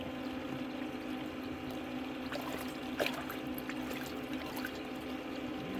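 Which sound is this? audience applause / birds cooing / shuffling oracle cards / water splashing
water splashing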